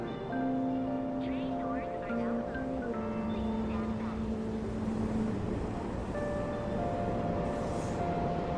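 A train sits at a station in the video game Persona 5 Royal, with a steady rumbling hum and sustained tonal chimes over continuous ambient noise.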